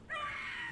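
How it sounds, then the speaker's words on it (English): A video game creature, a demon-like Howler, lets out a single brief, shrill scream that holds steady, up close and alone. "Scream all you want."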